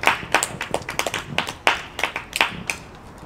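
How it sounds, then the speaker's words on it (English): A small outdoor audience at a stand-up comedy gig in Griffith Park, Los Angeles, clapping for a comedian, with distinct, uneven hand claps close by rather than a dense roar. "Everybody clap for this young lady."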